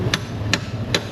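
Hammer striking a chisel against a stuck bolt on a car part in an auto shop, three evenly spaced sharp metallic strikes, close and loud over a steady shop hum.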